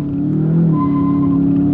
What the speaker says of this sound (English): It just goes and the tires keep spinning